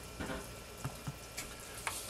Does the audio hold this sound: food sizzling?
yes